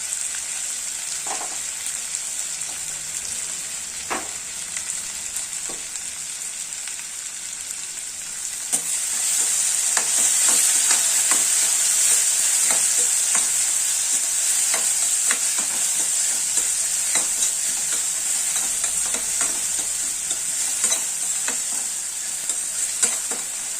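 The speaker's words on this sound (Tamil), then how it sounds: "நல்லா ஃப்ரை ஆகட்டும்." Onion and tomato frying steadily in a pan for a capsicum egg curry, a loud continuous hiss that grows stronger partway through, with occasional spoon taps and scrapes.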